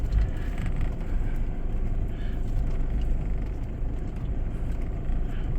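An all-wheel-drive car drives steadily through rain at a campsite, its low engine and road rumble continuous and close, with wind buffeting the microphone throughout.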